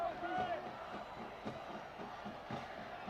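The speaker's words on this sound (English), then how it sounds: "This Riverdale crowd has gone nuts." Riverdale high school football student section cheering from across the field, a faint, distant roar of crowd noise with rhythmic surges under a commentator's voice.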